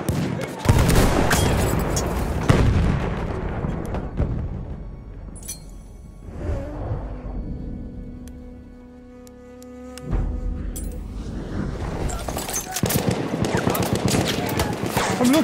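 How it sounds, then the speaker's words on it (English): Machine gun fire in a video game rattles in dense bursts, loud and continuous, with booms mixed in. The fire eases to a quieter lull midway before resuming, and shouted voices come through over it. "I'm looking at a machine gun!"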